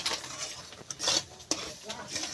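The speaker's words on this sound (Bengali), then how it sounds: "এইভাবে খুন্তিয়ে করে নাড়তেই থাকবো।" Spatula scraping and stirring thick gujiya dough mixture in a pan, a continuous rough scraping with a few sharper knocks against the metal, close and fairly quiet.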